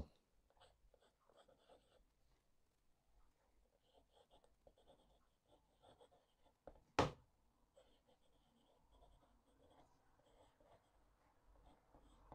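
Nib of a cheap full-brass Delike fountain pen scratching across paper in a quiet room, soft irregular strokes and taps with one sharp knock midway.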